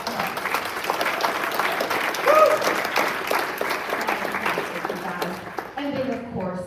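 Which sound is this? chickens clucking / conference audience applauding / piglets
conference audience applauding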